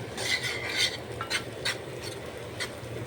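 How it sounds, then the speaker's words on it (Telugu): Grated beetroot curry being fried on high heat in a pan, a steady low sizzle with repeated scraping strokes of a spatula against the pan, close and alone. "నేను కొంచెం హైలో పెట్టుకొని ఫ్రై చేసుకుందాం అనుకుంటున్నా."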